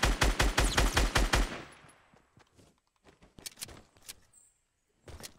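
A fast burst of automatic gunfire in a solo Fortnite match, loud and close for about a second and a half, then quieter scattered shots and shuffling, with one last short burst near the end.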